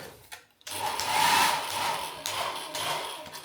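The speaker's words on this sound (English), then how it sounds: "A hairdryer." A hotel room hair dryer switches on with a click and runs as a steady, breathy whir, close by, wavering slightly as it is held.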